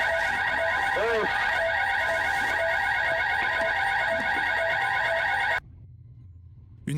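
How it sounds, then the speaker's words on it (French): An alarm blares loudly and steadily in a dark, deserted observation room, with a rising and falling wail over the tone, then cuts off abruptly into near silence. "Une alarme retentit"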